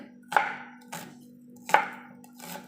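Four sharp knife strikes chopping spring onions on a cutting board, evenly spaced about half a second apart, close up and crisp against a faint steady hum.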